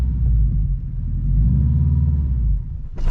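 A manual car's engine revs hard during a hill start, a loud steady low rumble sustained for about three seconds before briefly dipping at the end.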